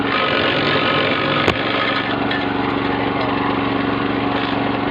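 A branch shredder's motor runs at high revs in a steady, loud, close drone that stays even throughout, broken once by a brief knock.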